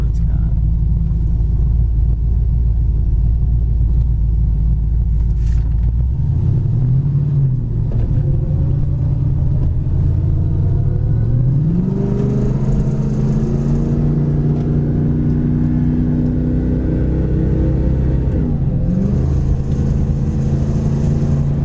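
A 1974 Plymouth Duster's engine revs up in first gear from a low rumble, climbing in pitch with a strong, steady drone and a brief shift near the end, close to the car.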